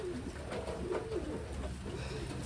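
Taiwan pigeons coo in low, rolling, repeated calls nearby, steady and moderately quiet with no one speaking.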